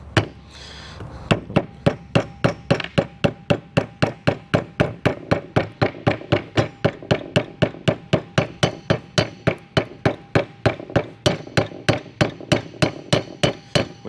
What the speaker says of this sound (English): I'm just going to use a hammer, and we're just going to start slowly, and we're just going to walk it all the way around